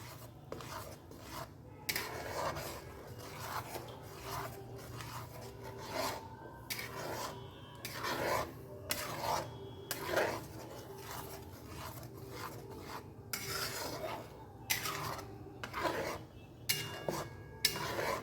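A utensil scrapes and rasps against a pan while ginger, garlic and onion are stirred, producing a steady run of close, gritty strokes in irregular bursts, alone without talk.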